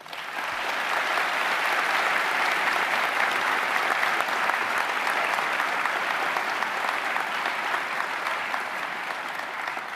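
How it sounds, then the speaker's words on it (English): Sustained audience applause at a university graduation ceremony for the School of Science, Engineering & Environment, a dense, even wash of many hands clapping that holds steady for the full stretch without talking. "I think they deserve a round of applause."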